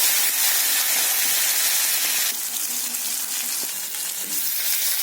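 Urad dal and onion sizzle and crackle steadily in hot sesame oil in a pan, a loud continuous frying hiss that brightens partway through, with no voices.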